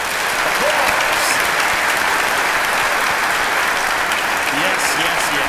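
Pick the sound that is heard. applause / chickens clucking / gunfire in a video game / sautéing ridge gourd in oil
applause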